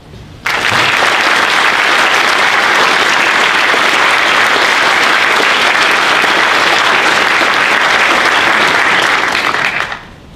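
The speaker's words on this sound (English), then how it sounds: "Round of applause." Loud, sustained applause from a large audience at a Navy submarine change of command ceremony, dense clapping that starts abruptly and holds for about ten seconds before cutting off.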